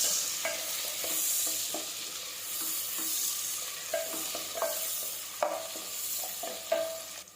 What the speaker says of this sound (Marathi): हे फ्राय झालं आता याच्यामध्ये पातळ चिरलेला कांदा व्यवस्थित फ्राय करून घ्यायचं